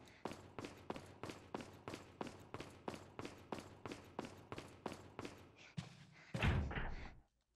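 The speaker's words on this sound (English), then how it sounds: "Door won't open. It's locked." A locked door in Resident Evil 4 (2005), Separate Ways, rattled over and over in a steady run of about fifteen close thunks, ending in a heavier thud.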